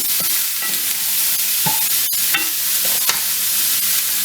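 A rack of lamb sears in a hot pan, giving a steady close-up hiss and sizzle throughout with a few sharp pops and clicks, no voices present.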